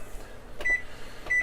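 Two short electronic beeps from an oven as its timer is set, spaced under a second apart, close and clear over faint room noise.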